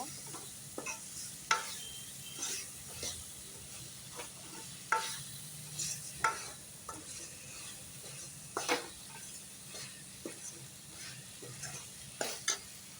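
Ginger garlic paste sautéing in a pan for a jackfruit-seed and brinjal kuzhambu, a steady low sizzle under repeated scraping strokes of a spoon stirring, close and moderately quiet, no talking.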